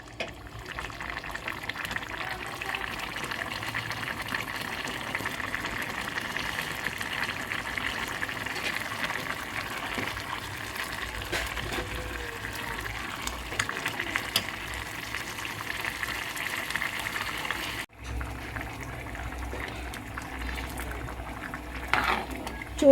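Gongura, dried prawn and tomato curry simmering in a pan on a stove, a steady low bubbling sizzle close by with faint background noise throughout.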